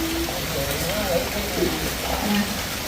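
Heavy rain pours down during outdoor preparations for cooking over a wood fire, a dense, steady hiss of falling water close around the microphone, with a person's voice faintly talking over it.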